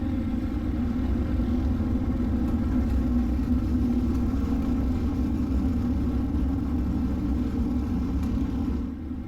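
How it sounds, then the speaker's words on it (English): Dirt street stock race cars in the iRacing simulator circle the track at pace speed, a steady droning engine rumble from a pack of cars that holds even throughout without talk. "Our cars are making their way 2 by 2 around the track."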